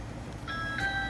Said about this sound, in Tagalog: mag-doorbell tayo.